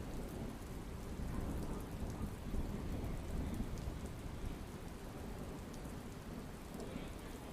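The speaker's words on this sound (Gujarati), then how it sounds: "ખાંભા ગીરના ગામડાઓમાં પણ વરસાદ પડી રહ્યો છે" Heavy rain pours steadily over villages of Khambha Gir in Amreli, a dense, continuous roar of falling water with rumbling thunder underneath, loud and unbroken throughout with no voices.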